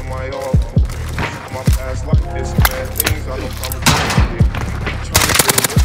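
Rapid bursts of automatic gunfire and single shots from a Call of Duty: Warzone match, loud and close, with repeated sharp cracks and a dense volley near the end.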